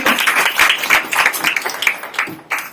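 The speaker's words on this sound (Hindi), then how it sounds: "विश्वास करते तो प्रभु के लिए जोर से ताली बजाइए" A congregation at a Sunday church service claps loudly and rhythmically in praise, the close, dense hand claps carrying on throughout with no talk over them.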